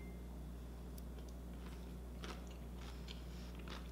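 Someone chewing a bite of chocolate cherry cottage cheese dessert with crunchy bits, giving soft, close, irregular crunching and mouth sounds over a steady low background hum, with no talking.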